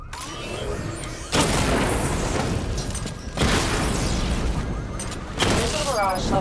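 Repeated booming explosions from a missile barrage in Batman Arkham Knight, several heavy blasts in quick succession with rumbling, mechanical whirs and debris between them, loud and close.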